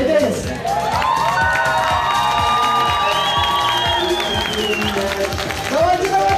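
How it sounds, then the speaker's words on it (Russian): A birthday-party audience applauds and cheers steadily, with dense clapping and shouts, mixed with voices and some tonal background sound. "Сейчас вот сколько будет аплодисментов"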